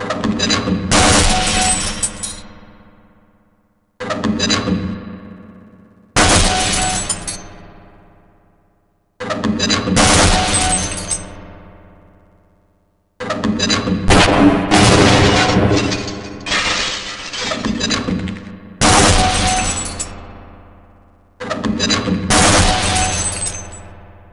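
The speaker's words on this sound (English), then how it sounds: "Some targets can only be destroyed by lobbing grenades." Loud gunfire and grenade blasts ring out at the Black Mesa training target range in Half-Life: Blue Shift, coming in about seven separate bursts, each a sharp burst of shots or a boom with a decaying tail, broken by short silences.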